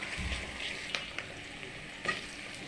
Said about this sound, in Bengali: দিয়ে পেঁয়াজটা ভেজে নিচ্ছি।